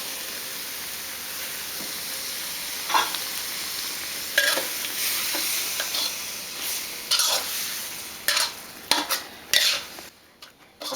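Coconut cream hits frying shrimp paste in a pan, giving a constant close hiss of sizzling, with scraping spoon strokes that become louder, sharper bursts toward the end.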